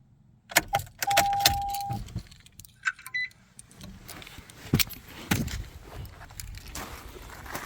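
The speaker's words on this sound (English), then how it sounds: "I put it back on park and I remove the keys." Car keys jangle close by as they are pulled from the ignition of a parked car, a short metallic rattle followed by faint clicks and shuffling in a quiet interior.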